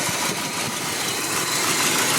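Car engine idling steadily after new spark plugs, wires, alternator and exhaust manifold gasket, a continuous close, even rumble with no talking.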